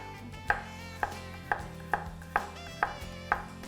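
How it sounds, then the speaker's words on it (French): A knife cuts through bread on a board in a home kitchen, giving seven evenly spaced crisp knocks over a soft background hum. "Puis moi, je vais couper mon pain."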